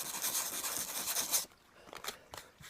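Sandpaper rubs over a cement model station platform with a steady, hissy scrape for over a second, followed by a few shorter, quieter strokes.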